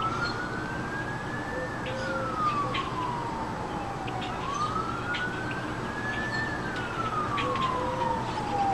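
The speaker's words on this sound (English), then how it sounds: "It sounds like we live in a big city with sirens." A wailing emergency siren rises and falls slowly in two long sweeps, steady and moderately distant, over a constant low background rumble.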